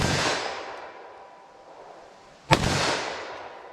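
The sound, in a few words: gunshots from .357 SIG or 9mm pistol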